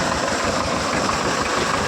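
A tractor engine runs with its brake tied down, driving a pump to draw water out of low-lying ground; a loud, steady, close mechanical drone continues throughout with no speech.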